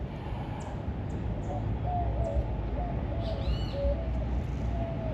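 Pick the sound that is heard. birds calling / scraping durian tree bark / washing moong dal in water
birds calling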